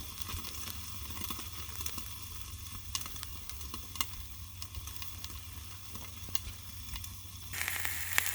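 Corn on the cob sizzling steadily on a Blackstone griddle, a constant crackling hiss with occasional sharper pops, close and unbroken throughout.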